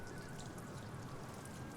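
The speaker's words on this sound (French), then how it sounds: "aux gouttes tombant du mur et du plafond, à l'eau frémissant dans les gouttières, à la pluie sur le sentier tout proche" Rain falls and water drips steadily, a faint, even patter with no distinct single drops standing out, continuous throughout.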